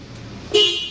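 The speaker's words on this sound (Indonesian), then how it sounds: "ini bunyi klaksonnya masih orisinil" Original factory horn of a 2012 Toyota Avanza 1.3G, one short loud honk close by that starts abruptly after a quiet moment and fades slightly as it holds.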